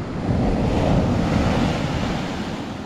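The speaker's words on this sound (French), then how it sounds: "C'est du vague qui tape hein." Ocean waves crashing onto the beach at a surfcasting fishing spot, a loud continuous roar of surf mixed with wind buffeting the microphone.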